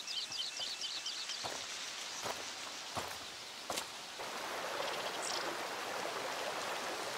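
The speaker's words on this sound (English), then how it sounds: "There's water over there." Steady rushing of a flowing stream in A Plague Tale: Requiem, continuous and fairly close, with a few soft footsteps, a rustle and chirping bird calls over the water.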